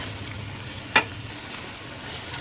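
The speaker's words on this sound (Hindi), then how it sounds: "तो अब यहाँ पे हम प्याज ऐड करेंगे।" Onions fry in hot ghee for mutton qorma, a steady soft sizzle running throughout with a single sharp clink of a spoon against the pan midway.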